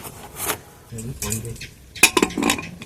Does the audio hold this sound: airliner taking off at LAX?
no